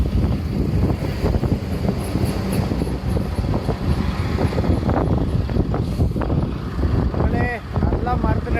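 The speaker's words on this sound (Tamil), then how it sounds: "நல்லா காற்று அடிக்குது மக்களே வயல்வெளி வேறு ஈரமாக இருக்கா நல்லா ஜில்லுன்னு காற்று அடிக்குது" Strong wind blowing over wet farm fields rushes and buffets the microphone in a steady roar, with a person talking underneath.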